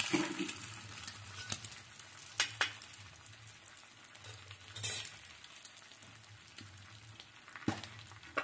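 An omelette fries in a pan with a soft, steady sizzle, faint and close, broken by a few light scraping or tapping sounds.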